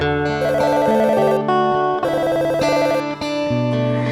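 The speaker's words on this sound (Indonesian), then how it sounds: "telepon berbunyi" An electronic telephone ringtone sounds alone, nearby and clear. It plays a bright, tonal melody in short repeating phrases with brief gaps between them.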